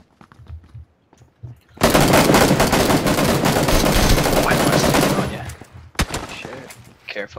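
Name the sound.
sniper gunfire in video game PlayerUnknown's Battlegrounds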